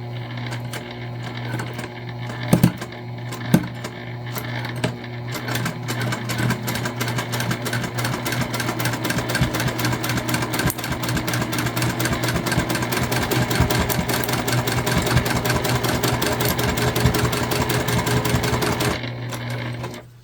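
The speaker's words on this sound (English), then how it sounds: "All right, so back to the machine here. We're gonna stitch down the bottom with a 3/8 inch seam allowance." A sewing machine stitches the bottom seam of a knot handbag with a 3/8 inch seam allowance, running loud and continuous for nearly twenty seconds after a few brief clicks, then stopping at the end.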